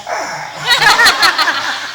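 A person vocally imitates a sad dog barking, a drawn-out whining bark with a wavering, mournful quality, fairly loud and close, with no other voices.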